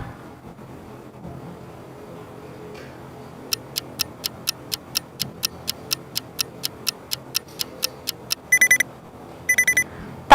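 A countdown timer ticking in regular, evenly spaced sharp clicks for several seconds, ending in two short bursts of rapid beeping alarm tones, over a quiet background.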